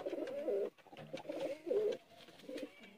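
A male Sialkoti Teddy pigeon coos close by in a few soft, throaty, rolling phrases with brief gaps, alone without talk.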